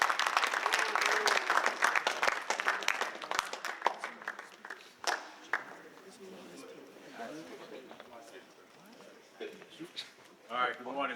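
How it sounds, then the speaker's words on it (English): Audience applause at a young men's leadership conference as a speaker comes up, dense clapping that thins out over several seconds while voices carry on above it. "Give him a round of applause as he comes."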